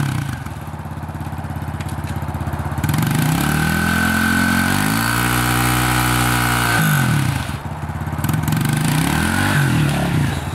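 Truck engine revving hard while the truck spins donuts in second gear, a loud, close, sustained roar that rises in pitch, holds, then drops back toward idle.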